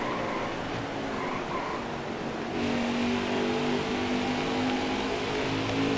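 Race car engine in NASCAR Heat 4 at Richmond Raceway, a steady roaring drone that climbs in pitch and grows louder midway as the car accelerates, with other cars' engines blending in behind.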